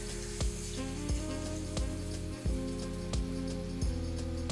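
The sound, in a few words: meat sizzling in hot oil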